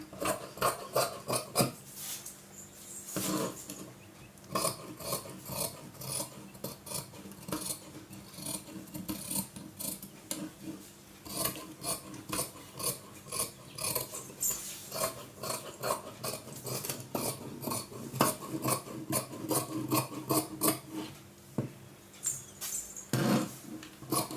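Scissors snipping blouse fabric at a tailor's shop, a run of close, crisp cuts in quick irregular bursts with short pauses, no talk.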